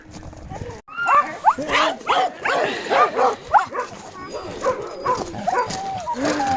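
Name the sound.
dogs barking and whimpering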